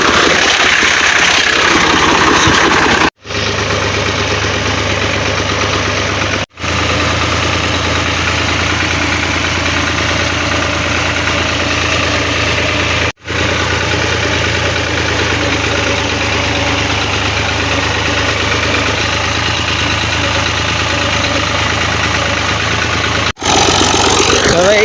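A tractor engine idles loudly and close by in an unbroken, throbbing rumble with a faint knocking texture, interrupted only by a few abrupt gaps.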